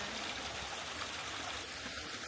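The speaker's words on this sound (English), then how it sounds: "we've come to a little, whoa, a little waterfall here" Small waterfall on a trail up Mount Hallasan on Jeju Island, a steady close rush of falling water with no voices over it.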